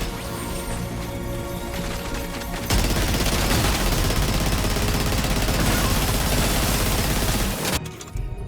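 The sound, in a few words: main cannon artillery fire support in the video game Death Stranding 2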